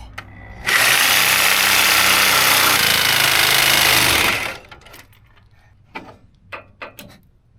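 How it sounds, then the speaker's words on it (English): A reciprocating saw cuts through seized cab mounts on a Toyota Tacoma truck in a loud, harsh burst of rapid buzzing that lasts about four seconds, followed by quieter clanks and scrapes of handling. "I'm just gonna cut them all with the Sawzall."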